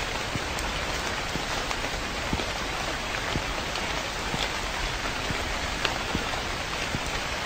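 Steady rain falls in a haunted shop game, a dense, even hiss of drops with scattered individual patters, constant and fairly loud with no voices.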